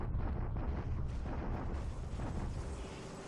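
An artillery bombardment in the War in the Pacific strategy game, a continuous dense low rumble of distant explosions that stays steady and heavy throughout.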